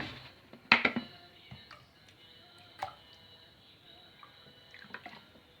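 Water is poured into a pot of cooking orzo, giving a short splashing pour followed by faint drips and small clinks in a quiet kitchen.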